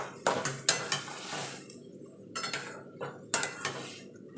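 Roasted eggplant being mixed with salt, onion, oil, tomato and garlic, heard as repeated spoon clinks and scrapes against a bowl in short bursts with quiet gaps between them, no voices.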